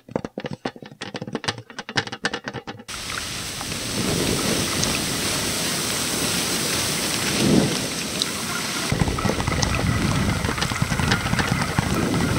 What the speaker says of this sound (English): Now I need some rain on the windows.